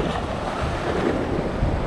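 Ocean waves surging against coastal rocks on a rocky fishing shore, a loud, continuous roaring wash with heavy wind rumble buffeting the microphone throughout.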